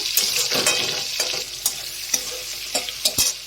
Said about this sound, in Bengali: ভাজা ভাজা হয়ে গেছে তেলের মধ্যে।